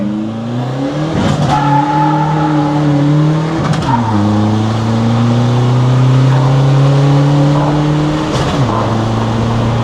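A modified 1.9-litre car engine revs hard and close, its pitch climbing through several gear changes with brief dips between pulls, loud and sustained.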